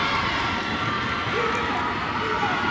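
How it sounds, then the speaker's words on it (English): Crowd at a high school boys' basketball game between St. Clairsville and Barnesville cheers and shouts in a steady, loud roar that swells slightly late in a close finish. "Crowd getting into it."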